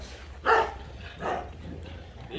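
Puppies yip while diving into their food: two short, high-pitched yips about a second apart over a low background hum, fairly close.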